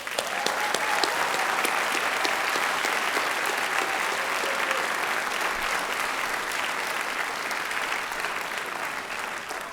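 Graduates, faculty and guests at a 2017 Northwestern Engineering professional master's degree ceremony give a long round of applause, a thick steady roar of many hands clapping at even loudness throughout, with no talk over it.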